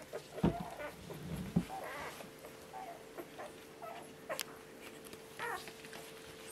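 Faint high whimpers and squeaks from one-week-old Border Collie puppies feeding, scattered and soft, with rustling and a few brief louder yelps close by.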